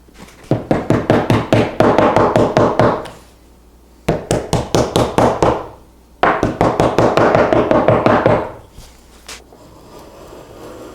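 Repeated sharp hammer blows in rapid bursts, pounding a glued inlay into a walnut buffet top, three runs of pounding separated by short pauses, close and loud, then quiet.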